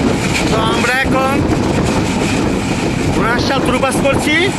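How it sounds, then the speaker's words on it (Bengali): Strong wind roars across the roof of a moving train, a loud continuous rushing buffet with rumbling undertone, while voices talk and call out faintly beneath it. "ছাদের উপরে প্রচুর বাতাস"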